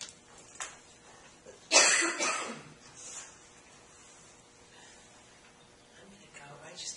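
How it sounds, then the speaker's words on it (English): One harsh, loud cough bursts out near the start, followed by quieter throat sounds and faint breathing; no speech around it. "I just can't stop coughing."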